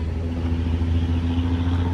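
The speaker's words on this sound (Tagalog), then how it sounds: "mabalik tayo dito sa traktora na umaarangkada ngayon" A tractor engine revs on Manila Bay's Dolomite Beach, giving a steady, loud low rumble with a constant hum throughout and no voices.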